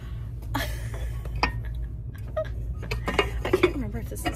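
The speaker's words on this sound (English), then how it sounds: "I just found an Our Place pot, strangely" An Our Place pot handled while shopping in a HomeGoods store: scattered clanks and clinks of metal and lid, close and moderately loud, with a voice and other shop voices faint in the background.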